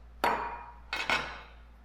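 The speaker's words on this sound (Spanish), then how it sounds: "Y vamos a cortar en cubos. Y esto voy a hacer con 5 mangos." A knife strikes a cutting board three times while mango flesh is cut into cubes: one sharp chop, then a pause and two quick chops close together, near and clear with no talk.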